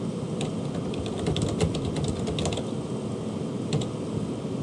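Soft, irregular clicking of keys on a computer keyboard, a light run of taps in the middle and a couple of isolated presses near the end, over a low steady background hum.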